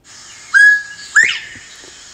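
A person whistles an imitation of a bobwhite quail's call in a mountain forest setting: two clear rising whistled notes, the second sliding upward, over a faint steady background hiss with no talking.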